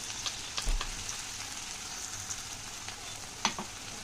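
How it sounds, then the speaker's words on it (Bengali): Chopped onion fries in hot oil with a steady, close sizzling hiss, a few soft pops and one brief sharper crackle near the end, with no voices. "তেলটা গরম হয়ে গেছে, আমি দিয়ে দিচ্ছি পেঁয়াজ কুচি"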